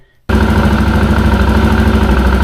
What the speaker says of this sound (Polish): Teraz odpalę motorek.